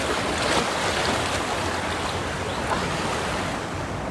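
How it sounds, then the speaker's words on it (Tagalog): Strong, loud rushing water at a fishing spot, a steady broadband roar of surging current with wind buffeting the microphone, continuous and close throughout with no talking. "Sobrang lakas ng tubig."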